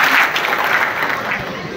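Audience applause at a community felicitation event, a short burst of many hands clapping indoors, loud and dense, with a voice audible over it.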